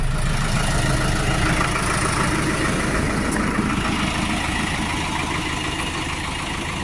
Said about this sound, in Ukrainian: Трактор не шумний, не гучний